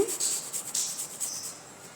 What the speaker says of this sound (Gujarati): તો હવે આપણે થોડું આદું છીણીને નાખી દઈશું